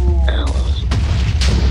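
TNT explosions in the Minecraft minigame Bomb Lobbers, a loud booming blast followed by further thumping bursts in quick succession, close and heavy, with a low rumble throughout.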